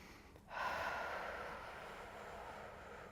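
A deep, steady breath during a hamstring mobility yoga flow: a soft, airy rush that swells in after a brief pause and holds for a few seconds, close and quiet.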